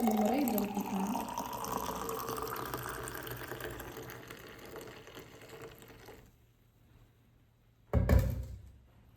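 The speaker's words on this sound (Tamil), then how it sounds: "அந்த மோரை இதை ஊற்றிக்கலாம்." Filtered buttermilk being poured for white pumpkin juice, a gurgling liquid stream that fades off over several seconds, then a brief knock or clunk near the end; a voice is faintly present.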